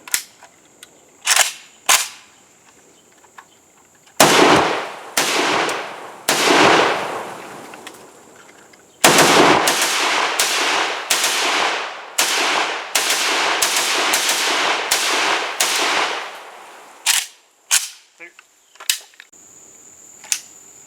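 A WASR-10/63 KR short rifle fires a series of sharp, loud shots, first a few spaced singles, then a rapid string of closely spaced cracks, followed by several more scattered shots.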